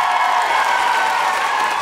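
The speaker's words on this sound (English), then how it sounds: "can I have a huge, huge, huge round of applause for the wonderful Elaine" A crowd at a live podcast recording applauds and cheers for a guest, a steady dense wash of clapping that fills the whole moment without a break.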